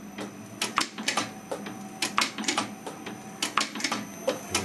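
An Eminence 6K projectile sizer runs 9mm projectiles, giving off a busy, close, mechanical clatter of rapid clicks and thumps in an uneven repeating rhythm.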